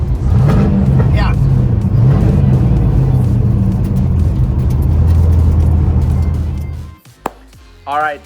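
A Nissan 350Z fitted with an LS V8 engine drives along with a steady, loud low engine drone that fades out near the end, followed by brief talk.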